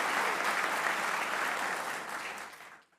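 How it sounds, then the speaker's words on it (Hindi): A live comedy-show audience claps in a dense, even burst of applause that holds steady, then fades out over about three seconds. No one speaks. "बेटा तालियां बजा कर"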